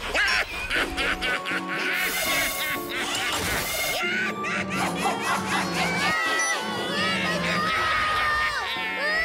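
Cartoon children scream and shout in a frantic crowd, high shrieks and yells overlapping with crashes and bursts of noise, loud and continuous throughout.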